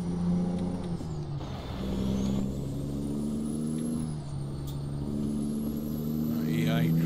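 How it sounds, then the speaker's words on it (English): A heavy truck braking sharply in American Truck Simulator, a loud low engine drone with a rising whine and hissing air brakes, steady and close, with people talking over it. "Truck certainly slammed the anchors on pretty sharpish there"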